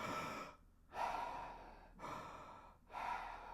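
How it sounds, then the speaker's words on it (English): Slow breathing exercise with air hitting the back of the throat: two long, breathy inhale-exhale cycles with brief pauses between them, close and fairly soft. "the last one is basically having the air hit the back of your throat"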